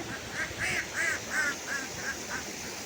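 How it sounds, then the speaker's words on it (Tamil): A run of about seven ducks quacking in quick succession as they feed on water, clear and moderately close, over a steady outdoor background hiss. "இந்த சைடு தண்ணியில் வாத்து மேய்ஞ்சிட்டு இருக்குது"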